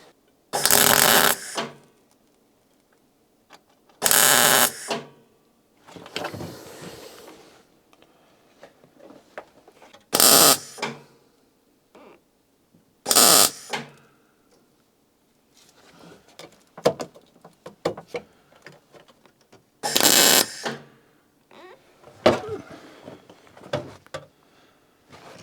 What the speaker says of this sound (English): So I'm gonna begin to weld that in.